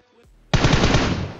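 Rapid automatic gunfire from PUBG Mobile on the Erangel map, a loud burst starting abruptly after a brief quiet lead-in and rattling continuously to the end.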